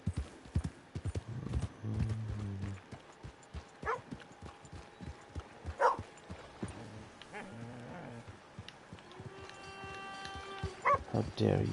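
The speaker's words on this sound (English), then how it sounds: "How dare you bark at me?" A dog barks in Red Dead Redemption 2, a few sharp barks breaking through steady horse hoof clip-clop and scattered game ambience, with a voice talking over parts of it.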